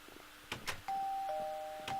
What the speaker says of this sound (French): Je sais pas si vous l'entendez, le bruit de la sonnette